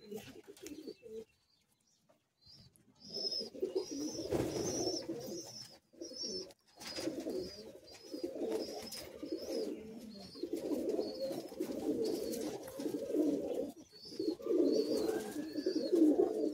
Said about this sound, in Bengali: খোলা দুমের পায়রা।